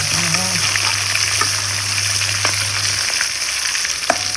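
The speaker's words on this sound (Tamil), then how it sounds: "இப்படி பொரிஞ்சிடும் மண்டை." A fish head fries in hot oil in a village-style kitchen, a loud, steady bubbling sizzle with a low electronic tone under the first few seconds and a few sharp pops and spatters.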